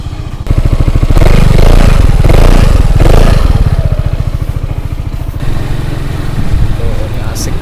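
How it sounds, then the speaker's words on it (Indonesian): A Yamaha XMAX 250cc scooter is ridden, its engine droning and revving close by with a pulsing low rumble that eases somewhat toward the end, while someone talks over it. "Gue mau coba dulu rasanya naik X-Max."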